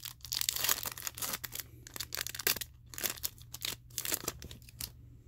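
A foil wrapper on a 2021 Bowman trading card pack is torn open in several crinkly, crackling bursts with short gaps between them, close up with no talking.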